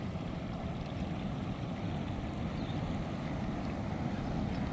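Heavy rain floodwater surges across a road near Bheema Lingam by Hyderabad, a constant dense roar of rushing water with some wind buffeting the microphone, no speech.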